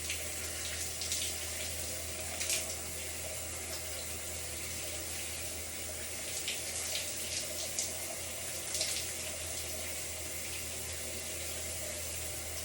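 Water is dribbled onto fine, low-porosity 2b wavy hair during a leave-in conditioner routine, heard as a steady close stream of running water with faint splashy hiss throughout and no talking.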